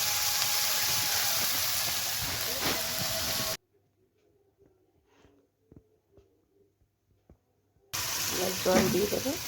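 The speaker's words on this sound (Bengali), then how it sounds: "জল দিয়ে দেবো," Water poured into a fish curry simmering over a wood fire, a bright rushing hiss and sizzle up close, broken by a quiet gap with faint knocks before the rushing returns.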